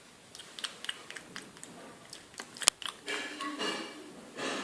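Biting and chewing into a crunchy chocolate croissant, heard close up as a string of short crisp crackles, one sharp loud snap, then denser crunching as the chewing continues.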